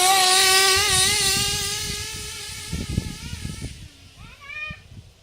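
A small nitro-style RC car engine with about six gallons of run time screams at high revs, its pitch wavering and falling, then drops to a rougher, sputtering idle with brief throttle blips near the end.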